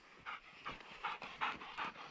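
A hunting dog pants after retrieving a partridge, giving quick, rhythmic breaths that repeat about six times, close by but quiet.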